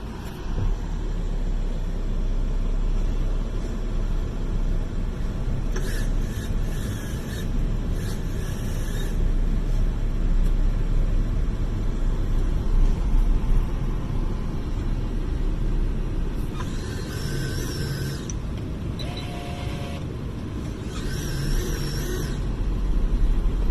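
A car is heard from inside, engine rumbling low and steady while it reverses and then drives off, with a few faint clicks and beeps from the controls and no speech.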